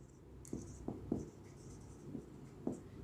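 Chalk or marker strokes on a board in a classroom, a series of short scratchy taps and drags spaced irregularly, fairly close and clear over a quiet room.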